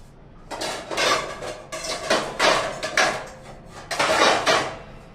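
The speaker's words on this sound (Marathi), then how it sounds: "आता आपण गॅसवरती कढई ठेवूया आणि हे छान शिजवून घेऊया" Heavy metal clanks and scraping as an iron wok is set down and shifted on a gas stovetop, several bursts, close and fairly loud.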